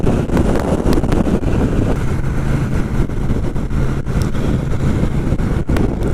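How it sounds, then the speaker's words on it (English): Steady roaring wind blast buffets the microphone while riding a Royal Enfield 650 Shotgun motorcycle at cruising speed, loud and continuous, with the engine hum buried underneath. "So, overall wind blast, yes, which you'd expect, but not uncomfortable."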